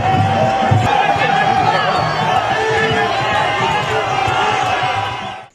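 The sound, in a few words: crowd cheering and ovations at Goma airport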